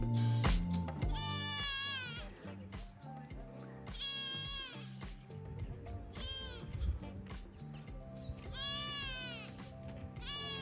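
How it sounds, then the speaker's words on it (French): A baby goat bleats repeatedly in long, wavering cries with short gaps, loud and close, over a dense background of other sound. "Oh, tout bébé chèvre."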